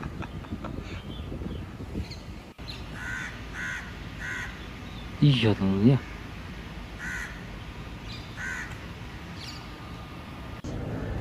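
Crows caw in a short cluster of harsh calls partway through, standing out over steady outdoor background noise, with a voice talking briefly near the start.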